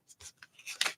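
Small scissors snip through stencil material in a few quick, quiet cuts, soft crisp clips close by in an otherwise silent room.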